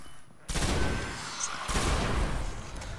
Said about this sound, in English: I shot through the shank